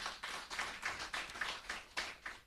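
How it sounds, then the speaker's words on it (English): Faint, distant clapping for the Moroccan ambassador at an arts gathering, with a few rhythmic bursts of hands pulsing at a quick, fairly even pace. "I think we can put up a round of applause for him"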